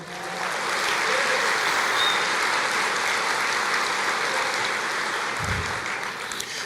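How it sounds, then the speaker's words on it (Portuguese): A church congregation applauds during a Portuguese-language sermon, a broad, sustained roar of clapping from a large crowd that swells quickly and stays strong to the end, with a low thump near the close. "Você pode aplaudir o Senhor?"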